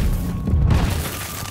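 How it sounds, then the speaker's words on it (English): A deep, rumbling boom swells and fades, layered with crackling debris, loud and close like an explosion in Star Wars Battlefront 2. "There's so many explosions going off, I don't know where I am."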